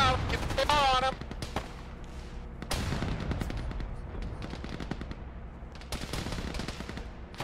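BAR automatic rifle fire in a tactical military video game, sustained rattling bursts of shots that come close and loud at the start and again later, under radio chatter and voices.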